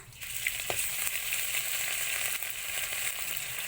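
Ginger paste and dry red chili paste fry in hot oil with bay leaf and cumin while being stirred, giving a steady close sizzle with faint scraping.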